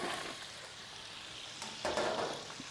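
Vegetables sautéing in oil in a pot for beef stew, a steady soft hiss of frying with brief stirring scrapes, a little louder near the end.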